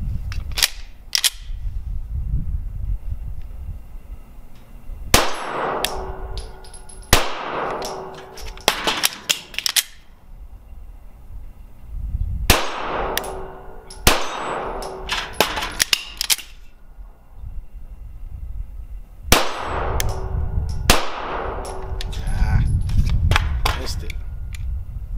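A Canik TP9 SFX pistol fires sharp, loud shots at steel targets, several quick strings separated by pauses for reloading, with ringing metallic hits from the plates.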